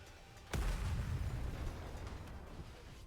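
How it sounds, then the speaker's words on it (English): A single loud, close missile explosion in a Nikke and Stellar Blade game scene, a sharp boom followed by a long, heavy low rumble that slowly fades. "The missiles have no homing ability. It's just firing wildly!"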